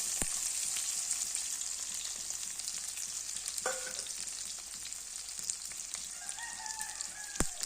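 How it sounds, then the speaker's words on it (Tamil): Chopped garlic frying in hot oil makes a steady, loud sizzle close by, with a few clinks of a stirring utensil and a rooster crowing faintly in the background. "இது எண்ணெயிலே கொஞ்சம் நல்லா பொரியட்டும்"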